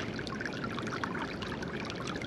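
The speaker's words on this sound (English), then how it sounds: "Oh, look at the little stream." A small stream bubbles and trickles in a desert botanical garden, a soft steady watery babble heard alone at low level throughout.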